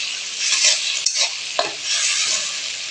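Tomato hits browned onions frying in a pan, raising a loud, continuous hiss with a few soft stirring scrapes and clicks, close up with no talking.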